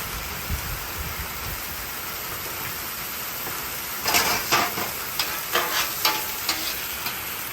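Vegetables hit a hot outdoor flat top grill during a heavy downpour, bursts of crackling sizzle and stirring scrapes rising over steady rain noise in the second half.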